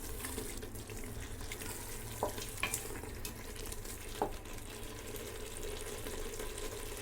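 Chicken biryani masala with green chillies frying as it is stirred, a faint continuous hiss with a few sharp spoon clicks and scrapes spread across the stretch, quiet and close, with no voices.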